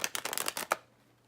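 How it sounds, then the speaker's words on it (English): A deck of playing cards is riffle-shuffled together at close range in a short, quiet burst of rapid flapping and ruffling that ends in a snap, then silence. "Start by shuffling the cards together."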